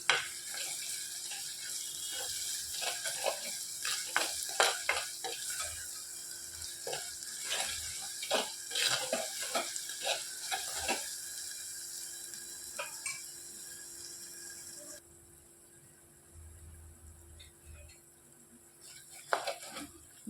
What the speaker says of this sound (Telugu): ఇందులోనికి కొద్దిగా కరివేపాకు వేసుకొని వేయించేసుకోవాలి.